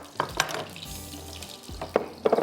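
Chillies frying in hot oil while cooking: a steady sizzle with a few clinks and stirring scrapes on top, close and moderately loud, with no talking.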